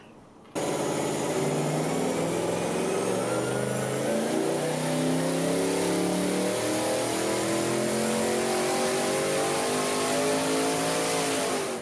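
A turbocharged BMW E36 3.0i with DCT gearbox, around 470 whp, roars into a long sustained run on a dyno, the loud engine note climbing steadily in pitch before cutting off at the end.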